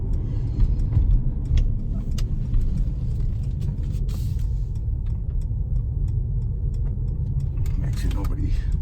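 A Mercedes-AMG C43 rolls through a slow U-turn in comfort mode on a neighborhood street, its engine a low, steady rumble from inside the cabin with faint ticking clicks over the top.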